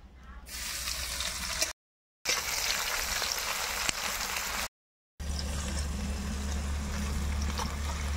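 Whole cumin, dried red chillies, whole garam masala and bay leaves with chopped onion frying in hot oil, a loud continuous sizzle and crackle, broken by two brief gaps, with steady hiss close by.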